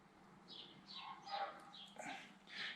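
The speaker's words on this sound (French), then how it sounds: "Ma chienne qui râle parce qu'elle est dehors" A female dog left outside grumbles and whines in short, muffled bursts, fairly faint and at some distance, with a few higher yelps.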